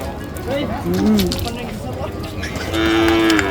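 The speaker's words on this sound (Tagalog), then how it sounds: "Parang gusto manungay ng ano kalabaw ni Sir Raymond parang galit ata." A water buffalo (carabao) on a farm lets out a few drawn-out, fairly close lows, with people talking over and around the calls.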